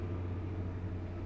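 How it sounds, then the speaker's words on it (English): Steady low road noise inside a moving car, a continuous rumble and hum with broadband hiss, fairly quiet and constant over a short moment, with no talking. "Sorry for the road noise"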